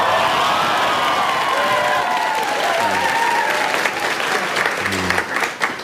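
A studio audience breaks into sustained applause, dense clapping that holds steady for several seconds before thinning and tapering off at the end.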